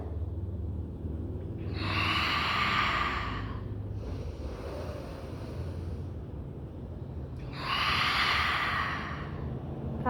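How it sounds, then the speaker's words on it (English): Deep, slow breaths during an ab workout on a mat, two long audible inhales or exhales rising over a soft steady background hiss, close to the microphone with a quieter breath between them and no talking. "Take a deep breath."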